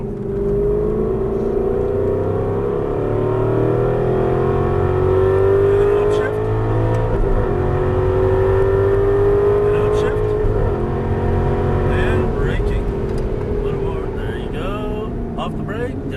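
An Aston Martin V8 Vantage engine roars at full throttle on a track, its loud, steady drone rising and falling in pitch through gear changes while someone talks over it.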